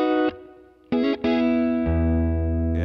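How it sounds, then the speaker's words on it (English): Electric guitar through a 70s-style reverb effect pedal, loud sustained chords with rich harmonics, a brief drop and restrike near the start, then a long ringing chord that decays with a reverberant tail, no talking. "we're on this 70s reverb tone"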